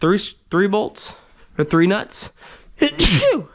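A sneeze bursts out near the end of a stretch of talk while someone removes taillights from an S550 Mustang, loud and close against the speaking voice.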